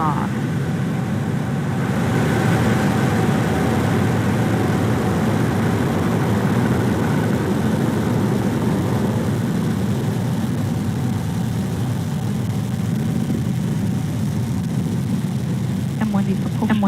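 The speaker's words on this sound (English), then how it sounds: "And liftoff." Falcon 9 rocket engines roar at liftoff of the Starlink/BlackSky launch, a broad, heavy, continuous rumble heard from a distance that stays steady throughout, with faint crackle near the end.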